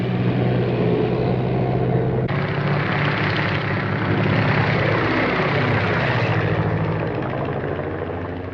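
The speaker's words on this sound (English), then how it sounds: "Why, that's a government plane." A government airplane's engine and propeller drone continuously, a rough low roar that swells and shifts in pitch as it passes, loud and fairly near, with no voices.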